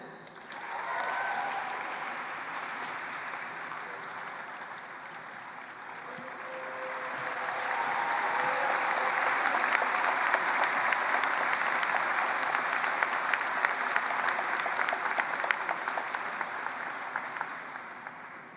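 Sustained applause fills a hall for an entering medical school class at a white coat ceremony, a broad wash of many hands clapping that swells midway and holds, with no speech over it.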